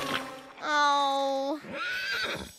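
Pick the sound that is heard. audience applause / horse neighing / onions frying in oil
horse neighing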